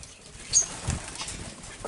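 A pet parrot flaps its wings in flight inside an aviary enclosure, a brief burst of soft flutters, near and moderately quiet.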